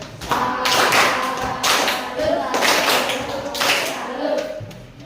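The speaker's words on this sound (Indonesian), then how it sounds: "Tepuk salut." A group claps in a rhythmic, patterned salute sequence of sharp, close claps and taps, repeating several times with brief pauses between bursts, in a classroom.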